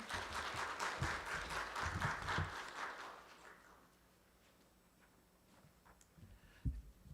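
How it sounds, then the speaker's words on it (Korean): Audience applause at a briefing session on carbon-neutral industrial transition claps for a few seconds, then fades out, leaving quiet room noise with a couple of soft knocks. "박수로 맞이해 주시기 바랍니다."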